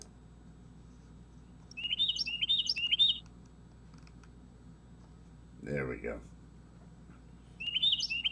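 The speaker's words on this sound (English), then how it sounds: "It's a sunrise with bird noises." Birds chirp outdoors at sunrise in short clustered bursts of high tweets, fairly close, with a brief stretch of talking between the bursts and a low steady background hum.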